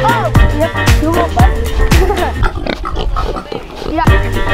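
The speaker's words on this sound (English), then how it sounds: "This is our mama pig." Mama pig on a farm grunting and oinking several times close by, short rhythmic snorts repeating, with people talking over the animal sounds.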